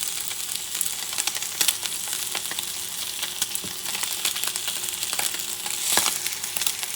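A thin-cut wagyu steak sizzles in a frying pan, giving off a dense, steady hiss peppered with sharp crackles and pops, close up and with no talking.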